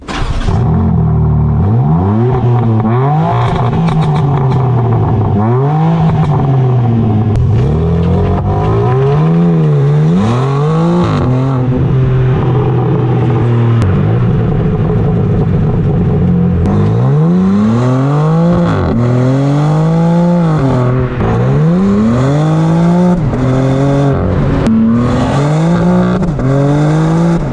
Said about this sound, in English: houses the quad exhaust tailpipes, which are huge, and they're very real. So real, in fact, you should take a listen for yourself.